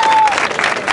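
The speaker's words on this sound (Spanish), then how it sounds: "Gente, gente, gente, aplausos para SZ" Audience applause at a rap battle final, a brief burst of loud crowd clapping lasting under a second, with a whistle tone at its start.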